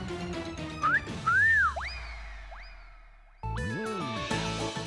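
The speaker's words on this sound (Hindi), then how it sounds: "तुमने अभी मुझे सीटी मारी है।" A person gives a few rising and falling whistles aimed at someone, loud and close, amid other layered sounds, before music-like tones take over.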